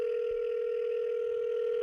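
Telephone ringback tone on an outgoing call, one steady unbroken tone heard alone and fairly quietly before cutting off abruptly.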